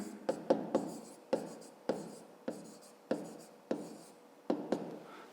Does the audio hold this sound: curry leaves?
no